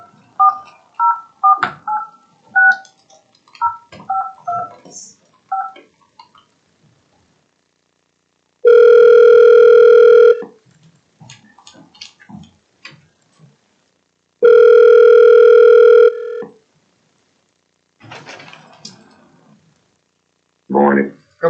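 Telephone call placed from a public school board special meeting: two long, loud steady tones with harmonic stacks alternate with bursts of short keypad-style beeps and faint background room talk before and between them.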